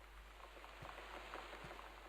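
Steady rain falls outside in the video game Gone Home, a constant soft hiss of a heavy downpour with a few faint droplet taps, heard from indoors.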